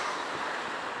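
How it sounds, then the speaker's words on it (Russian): Outdoor wind at a campsite in Olenevka, Crimea, a brief steady broadband rush that stays level and fairly loud throughout, with no voices. "ветер нам не помешает"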